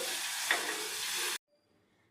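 Vamaku (ajwain leaf) rasam with tamarind juice boiling in a pot: a steady broadband bubbling hiss with a brief clink midway, cutting off abruptly after about 1.4 seconds into near silence.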